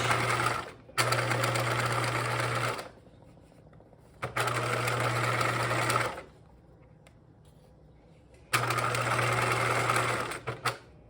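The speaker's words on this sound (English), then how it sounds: "it's machine basting, so I don't necessarily want it to be super tight" Sewing machine basting a backpack pocket at a long stitch length with back stitching, running in three loud, steady bursts of a couple of seconds each, separated by quiet pauses.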